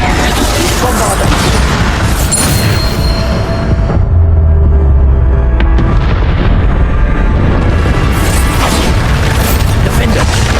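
Heavy Bombarda spell blasts in Hogwarts Legacy, loud booming explosions with crackling debris, repeated and layered over constant combat noise.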